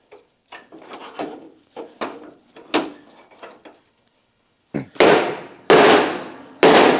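Sharp taps on an aluminum ramp piece being seated before welding, first a run of lighter knocks, then three loud, ringing blows close by, with no talking.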